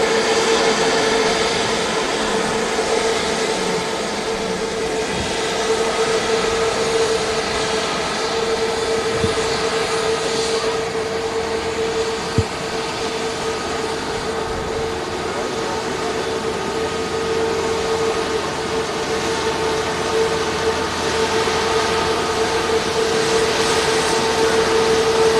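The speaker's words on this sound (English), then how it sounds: "What a beautiful aircraft." Jet aircraft engines at Manchester Airport give a steady, loud broadband roar with a sustained whining tone throughout, close and continuous with no speech.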